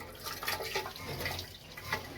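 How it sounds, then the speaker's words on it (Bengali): Water running and splashing through a newly fitted low commode pan, a soft, uneven trickle and wash lasting a couple of seconds without speech. "ফ্লাশের পয়েন্টটা চেক করবো আর কি।"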